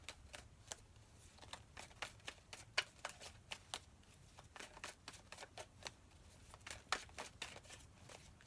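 Tarot cards shuffled by hand, a rapid run of crisp slapping and riffling snaps in uneven bursts, close but quiet, with no talking.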